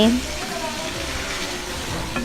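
Mutton and potatoes are stirred gently in a pot, giving a soft steady sizzle and scraping, with a person talking over the cooking sounds.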